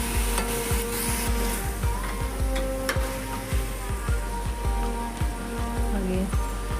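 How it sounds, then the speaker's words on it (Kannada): Four tomatoes fry in oil for a spicy tomato bath, stirred with steady, evenly spaced scraping strokes over a constant close, loud sizzle. "4 ಟೊಮೆಟೊ ಅಷ್ಟು ಹಾಕ್ಕೊಳ್ತಾ ಇದ್ದೀನಿ. ಅದನ್ನು ಫ್ರೈ ಮಾಡ್ಕೊಳ್ಳೋಣ"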